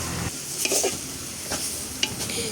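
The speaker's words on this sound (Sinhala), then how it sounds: "තුණු පහ ටික එකතු කරගත්තට පස්සෙත් මේ ටික හොඳට මේ විදිහට කලවම් කරනවා" Egg curry ingredients being stirred in a hot pan, a steady sizzle with a few scraping strokes and light clinks, close up and without talking.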